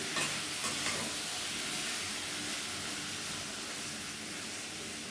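Fried pointed gourd and potato sauté with spices in a pan for a gourd and prawn curry, giving a constant close hiss of sizzling with a few faint stirring knocks early on.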